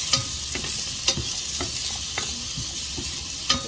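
Chopped onion frying in olive oil in a pan, with a steady sizzle and a few sharp scraping stirs about every half second to second, close and clear with no talking.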